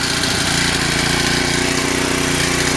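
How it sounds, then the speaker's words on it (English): Honda GX-31 small four-stroke engine on a motorized bicycle with no pedals revs as the throttle opens, a loud, steady, buzzy drone held close up for the whole stretch with no voices. "Watch your rev up."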